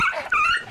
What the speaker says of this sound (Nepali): किन लखडा तिमीहरूले कुकुरलाई?